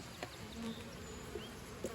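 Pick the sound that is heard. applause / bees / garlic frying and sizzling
bees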